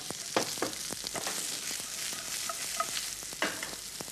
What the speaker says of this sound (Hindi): ये गार्लिक हमने सौते कर लिया है। अब इसके अंदर हम डालेंगे स्लाइस्ड प्याज